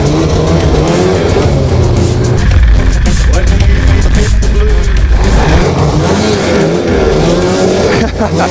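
A snowmobile engine roars loud and close at sustained high revs as the machine races toward a jump, with a voice faintly audible under the din.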